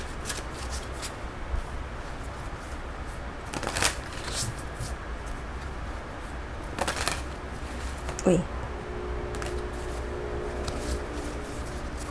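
Tarot cards being shuffled for a reading, with soft rustling and brief riffles and snaps recurring through the stretch, fairly close and quiet.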